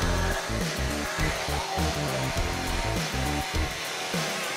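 An Oral-B Genius 9000 electric toothbrush brushing, a steady close motor buzz that shifts and pulses in a rough rhythm as it moves over the teeth.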